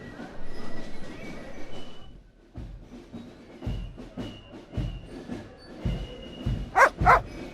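A dog in the Broken Sword 2.5 video game barks several times in short bursts, with faint background ambience between them and a couple of sharper, louder yips near the end.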